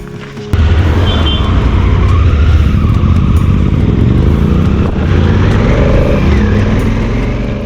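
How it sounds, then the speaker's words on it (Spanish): A big BMW GSA motorcycle with a boxer engine starts up abruptly and then runs steadily, giving a loud, continuous engine drone close by with slight shifts in pitch. "BMW GSA. Good motorbike. Big Engine Boxer."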